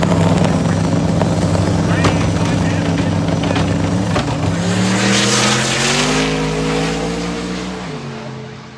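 Turbocharged drag car, a wagon nicknamed the Boostmaster, making a pass at a Sick Summer event: a loud, sustained engine roar with rising and shifting pitch through the gears, fading slightly as it pulls away, with an announcer talking over it.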